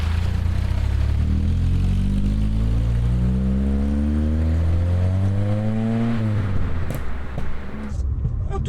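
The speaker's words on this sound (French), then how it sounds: "On touche à peine la pédale d'accélérateur que ça pète et que ça envoie tout de suite" A powerful GTI accelerates at close range. Its loud engine note climbs steadily in pitch for several seconds, then drops sharply as it lifts off, leaving a rougher idle.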